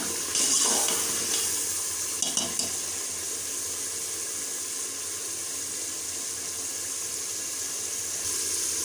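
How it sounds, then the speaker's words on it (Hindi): Water poured from half a glass into frying masala in a cooking pot for beef Sindhi biryani, a close hissing splash and sizzle that settles into a steady simmering fizz. "आधा गिलास जो है हम इसमें पानी ऐड करके ना मसाले को अच्छे तरीके से गला लेते हैं"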